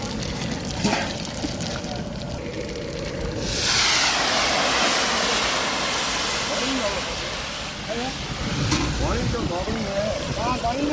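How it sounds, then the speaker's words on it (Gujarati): Loud, steady sizzling of spices hitting hot oil for tempering, then tomato, ginger and chilli, a dense crackling hiss that swells midway, with a voice talking over it. "અત્યારે વઘાર થઈ રહ્યો છે"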